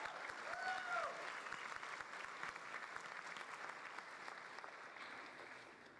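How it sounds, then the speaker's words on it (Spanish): Audience at a church event applauding as young people come up to the stage, sustained broad clapping heard faint and distant, with a few brief vocal cries early on. "Un aplauso."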